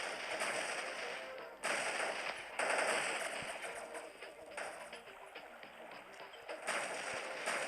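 Rapid bursts of gunfire from a shooting video game, sustained rattling volleys broken by short gaps, loud and dense throughout with no clear talking.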